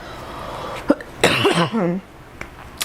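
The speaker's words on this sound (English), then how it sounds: "lingering COVID cough, I'm sorry" A lingering cough left over from COVID, heard as a short sharp cough or two up close, followed by a voice speaking briefly.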